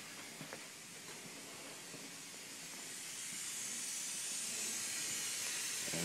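Air hissing steadily during a boost leak test on the intake of an LS1 Corvette fitted with a turbo, a soft, continuous broadband hiss that slowly grows louder, with faint clicks at the start.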